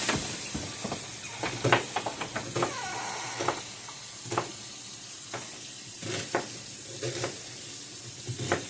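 A whole onion sizzles in a pot with meat for black-eyed peas and sauerkraut, a close steady hiss broken by frequent clicks and scrapes of stirring, with no talk.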